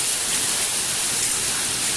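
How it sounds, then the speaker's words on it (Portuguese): A hailstorm with rain falls over a recreational countryside property in Goiânia, Brazil, a dense, even hiss of rain and hail at constant loudness, uninterrupted and without voices. "Chuva de granizo nos sítios de recreio Mansões do Campos."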